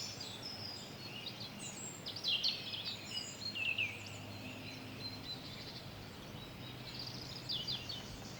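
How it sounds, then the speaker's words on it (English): A dense chorus of many birds sings during a spring hike in Sweden, overlapping high chirps and warbling trills, some close and bright, others farther off, with no voices. "I don't think I've heard so many birds at the same time before."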